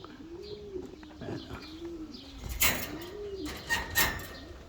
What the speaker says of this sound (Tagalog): Yun lang mga kalapatids.